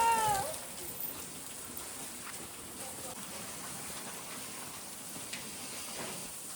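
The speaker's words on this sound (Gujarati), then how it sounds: "જો વરસાદ આવ્યો જો" Steady rain falls outdoors at a cow shelter, a soft continuous hiss with scattered drop ticks, moderately faint and consistent throughout with no talk over it.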